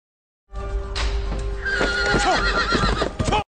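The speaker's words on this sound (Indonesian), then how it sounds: "kereta kuda yang digunakan oleh Oyang dihadang oleh seseorang" Horse pulling a carriage lets out a loud, close whinny that rises and wavers, with hoof clip-clops underneath, alone without talk.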